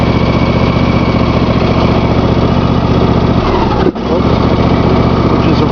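A riding lawn mower runs steadily with its PTO engaged and blades turning, a loud continuous engine drone that dips briefly near the end before resuming.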